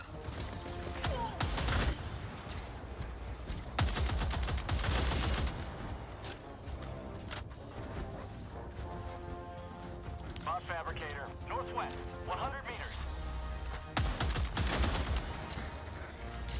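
An enemy turret fires in Helldivers 2, bursts of rapid gunfire with loud impacts and crashes recurring through a noisy battle, while a person talks over the action.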